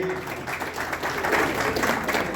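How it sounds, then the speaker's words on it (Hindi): An audience at an award ceremony claps, with applause starting moderately and building into fuller, louder clapping that carries on steadily to the end. "तो ऐसे आयोजक मंडल के लिए जोरदार ताली बजाइए।"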